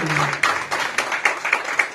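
Applause from a crowd at a business hall of fame awards event, brief but dense clapping with distinct sharper claps standing out, a voice briefly audible at the start.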